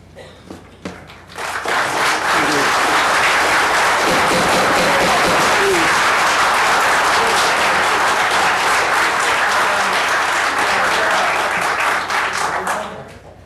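An audience at a council meeting breaks into loud, sustained applause after a public comment. The dense clapping swells after a few soft taps and stays strong for about ten seconds before cutting off.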